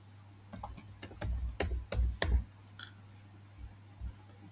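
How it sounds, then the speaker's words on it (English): Computer keyboard keys click in a quick, uneven burst of typing that tapers off into a few isolated taps, close and moderately loud. "So that number you should type."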